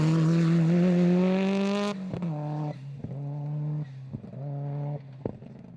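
A classic four-wheel-drive rally car, an old model, blasts along a stage at the International Rally of Whangarei, its engine screaming high and then dropping through several quick gear changes with revs climbing between shifts, loud and close.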